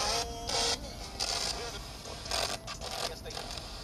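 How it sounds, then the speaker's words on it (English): Spirit box radio sweeping rapidly through stations, giving bursts of hissing static and brief chopped fragments that come and go in a steady choppy pattern, fairly close and at moderate level. "I'm going to go ahead and turn up the spirit box and kind of give you a gist of what it sounds like."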